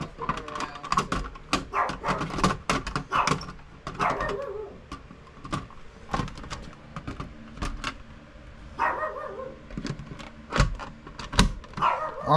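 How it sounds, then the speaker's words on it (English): A small puppy yelps and whimpers in short bursts around a house during an HVAC no-cooling service call, with repeated sharp clicks and taps mixed in, fairly close and moderately loud. "the little puppy was going around"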